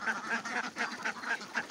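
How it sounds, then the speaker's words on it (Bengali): Ducks quack repeatedly and rhythmically as they leave the duck house on a farm, about seven loud, close calls in quick succession. "দেখেন হাঁস সব বেরোয় যাইতেছে"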